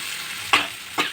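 A whole masoor lentil cutlet mixture fries in a pan, with a steady sizzle broken by two sharp scraping stirs about half a second apart.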